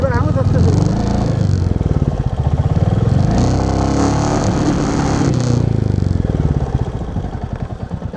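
A vehicle engine revs hard while stuck on a rough ravine track in the Chambal landscape, with a steady, loud mid-pitched drone and clattering throughout, mixed with people talking close by.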